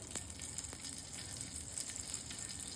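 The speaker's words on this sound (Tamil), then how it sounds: "இப்போ அதே பேன்ல பட்டர் சேர்த்துக்கிறேன்" Butter melting in a frying pan, a faint, continuous fine sizzle with a few tiny crackles, quiet and uninterrupted by talk.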